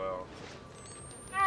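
A house cat meows near the microphone, a couple of short tonal cries at the start and end, with a voice speaking faintly in between.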